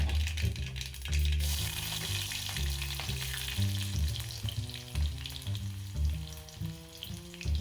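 Mustard seeds, cumin and onion temper in hot oil, giving a dense continuous crackling sizzle close up, with a low melodic backing underneath throughout and no speech.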